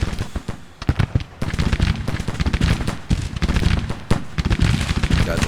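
Dense, continuous volleys of artillery and gunfire boom and crack in Grand Tactician: The Civil War, overlapping blasts at varying distances filling the whole stretch with little pause.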